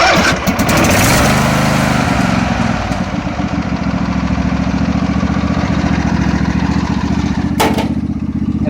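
A choked engine cold-starts after fueling, cranking briefly before catching into a loud, close, steady idle that runs on with a rough, lawn-mower-like rumble and no talk.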